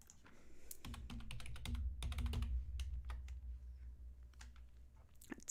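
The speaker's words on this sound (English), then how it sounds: "But I'll type it into the chat." Typing on a computer keyboard indoors, with quick, close, soft clicking keystrokes in irregular clusters over a low background hum, alone and fairly quiet.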